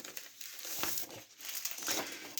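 Sheets of shimmery lilac paper, shimmery on one side and white on the other, are handled while being unpacked, giving close, soft crinkling and rustling in irregular bursts with no voices.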